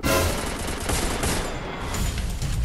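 Sustained automatic gunfire in the mobile battle-royale game Free Fire, a dense, loud volley of overlapping shots that barely pauses across the whole stretch, with no talking over it.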